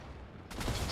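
Burst of video-game gunfire from a Fortnite match, a dense, loud crackle erupting suddenly halfway through the moment after a steady background hum.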